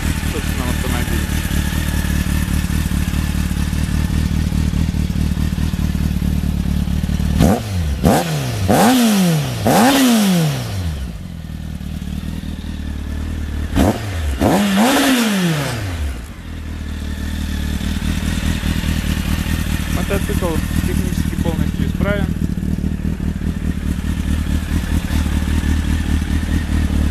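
Honda X4 motorcycle engine idling with a steady rumble, revved sharply twice and briefly blipped again, heard up close and loud throughout.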